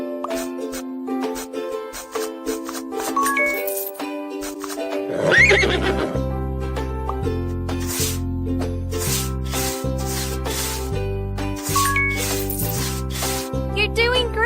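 In a pony care video game, a horse whinnies loudly midway and soft hoof clip-clops and grooming rubs follow, set over bright looping game music with a short voice line.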